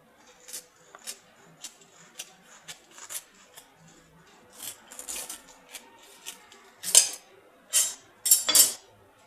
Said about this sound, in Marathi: आपलं व्हेज मेयोनीज सँडविच तयार आहे। आता आपण ते कापून घेऊयात।